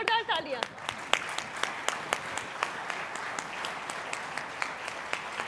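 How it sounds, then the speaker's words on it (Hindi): Steady applause from a crowd, with rhythmic claps standing out sharply above the wash of clapping, following a brief bit of speech. "जोरदार ताली।"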